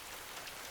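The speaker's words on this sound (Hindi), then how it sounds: "ज्यादा बारिश में मत भीगो, तुम्हें ठंड लग जाएगी।" Rain falls steadily in a Hindi cartoon scene, a soft, even hiss of drops with no distinct splashes and no speech, heard only briefly.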